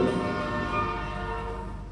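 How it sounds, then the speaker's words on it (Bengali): A train's horn sounds long and sustained at moderate distance, mixed with the low rumble of rolling rail cars as it approaches a station. "এই ট্রেন চলে আসছে"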